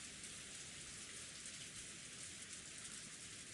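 Steady rain patters on a window in the visual novel Umineko, forming a continuous soft hiss of raindrops with no pauses, voices or other sounds.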